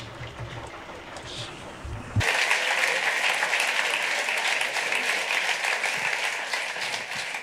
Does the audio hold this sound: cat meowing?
no